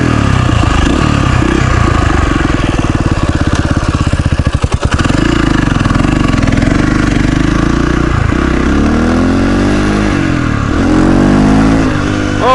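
A worn KTM motorcycle engine with weak compression is revved with the throttle, loud and close, its pitch rising and falling through repeated blips with a brief sputter midway.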